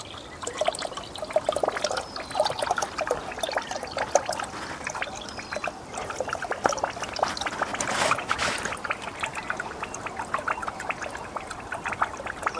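Bacteria-rich jeevamrut water streams out of a pipe on a farm with a steady, splashy trickle and gurgle, moderately loud and continuous, with faint background noise.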